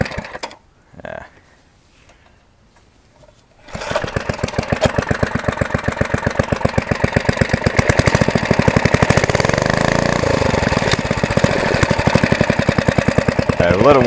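A Briggs & Stratton 2 hp edger engine, model 60102, sputters briefly, then catches and runs at a loud, steady, rapidly pulsing idle while warming up, with a voice heard briefly under it.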